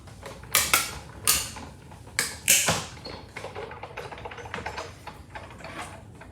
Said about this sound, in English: we'll pull in our die cut machine here and get to die cutting.